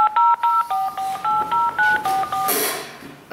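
A phone keypad sends a quick series of about ten distinct DTMF dialing tones in a steady rhythm, clear and close, followed by a short burst of line noise.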